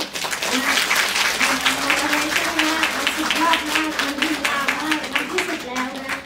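Audience applause at a company inspiration event in Thailand, dense steady clapping over several seconds, loud and close, with a voice talking over it.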